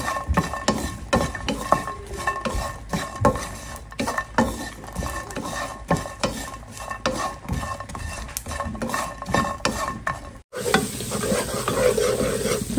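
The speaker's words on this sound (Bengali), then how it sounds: "আর এই যে এখন আমি লইটা শুটকিটা টেলে নিচ্ছি।" Dried Bombay duck fish (loitta shutki) frying in a pan, a steady close sizzle broken by repeated scraping and clinking of a spatula against the metal, with a brief pause before the frying resumes louder.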